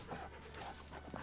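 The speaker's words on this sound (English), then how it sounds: "Oh, look at the doggy." A dog in the Farming Simulator 2019 video game on the Felsbrun farm gives a few soft, faint yips and whimpers over a low steady hum.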